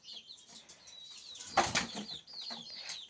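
A village chicken runs about and flaps its wings, with a loud flurry of wingbeats peaking midway through and softer rustling and faint chirps on either side. Nobody speaks.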